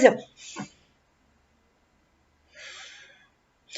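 A person draws in deep breaths twice, with a quiet pause between them and a third breath starting at the end. The inhales are soft and breathy, close to the mic, and no other sound is present.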